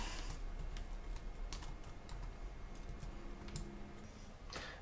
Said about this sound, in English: So just type in your password.